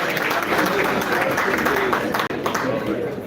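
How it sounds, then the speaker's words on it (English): Dense, steady applause and crowd noise fill an outdoor political rally in Gulu, loud and continuous with a brief dip near the end. "Can we clap to the foot soldiers kindly?"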